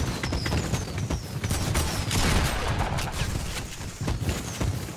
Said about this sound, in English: Someone's shooting fireworks.